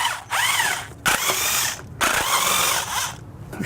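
A power tool whirs in three loud bursts, broken by brief pauses, while 10mm bolts come out of a bi-turbo Audi engine during camshaft removal work.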